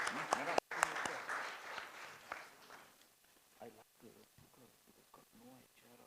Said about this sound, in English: Can we have a huge round of applause as we welcome the team members?